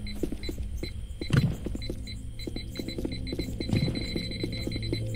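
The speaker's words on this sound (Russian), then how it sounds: "Пищит. Химическая, наверное, аномалия." In the online game Stalker Online, a repeated electronic beeping from a detector sounds near a chemical anomaly, pulsing steadily throughout over a low ambient hum and occasional thuds, with no voices.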